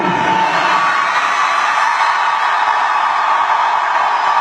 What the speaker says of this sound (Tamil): ஒரு பக்கம் ரொம்ப கரகோஷமா இருக்கு